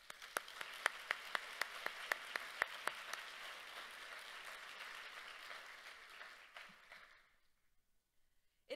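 An audience at a book talk with author Ruth J. Simmons bursts into applause, loud and steady with a few sharp claps standing out early, then cuts off abruptly near the end.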